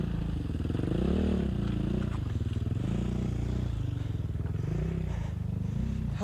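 A KTM enduro motorcycle, its front wheel stuck in a rocky rut, revs hard and close with a rough, pulsing engine note that rises and falls in repeated surges alongside light clatter.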